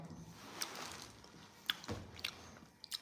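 Quiet close chewing and biting while eating laddu sweets, with a few soft crunchy and squishy clicks scattered over faint background noise.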